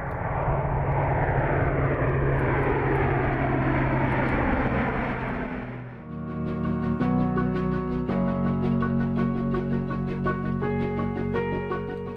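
Airbus A400M military cargo aircraft with turboprop engines, a steady broad roar that gives way halfway through to a humming, droning engine tone with layered harmonics, loud and close, no talking.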